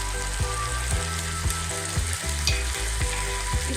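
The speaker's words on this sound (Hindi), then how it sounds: "अब इसमें हम डालेंगे अदरक लहसुन का पेस्ट।" Onions fried golden brown sizzle steadily in a pan after ginger garlic paste is added for parwal korma. A dense, constant sizzle is broken by regular scraping stirs about every half second.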